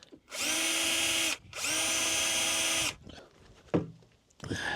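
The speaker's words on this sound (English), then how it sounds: "Position as jig, put the insert plate in and drill as 2 pilot holes." A power drill whines loudly in two long bursts, boring pilot holes through a hinge jig's insert plate into a cabinet door, followed by quieter clatter and handling noises.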